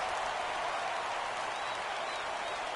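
A baseball stadium crowd of about 25,000 rises to its feet, cheering and applauding in a dense, steady wash of clapping heard from a distance.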